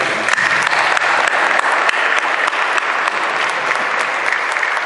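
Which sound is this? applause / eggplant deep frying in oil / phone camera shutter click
applause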